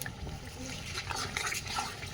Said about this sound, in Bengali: রসুনটাকে ভালো করে একসঙ্গে কষিয়ে নেব।